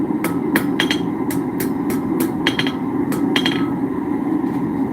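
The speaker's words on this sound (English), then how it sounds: "Light hammer blows. And just like that, we're going to have a happy little curl." Light hammer blows on hot iron being curled into a scroll at a blacksmith's anvil, a dozen or so sharp, ringing taps in an uneven rhythm over a low background hum.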